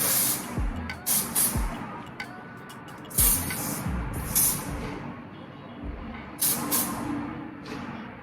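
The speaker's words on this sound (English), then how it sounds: "spray this kind of lightly on the hair" Several short hissing bursts of hairspray sprayed lightly onto hair at close range, scattered irregularly with brief pauses between them over a low background rumble.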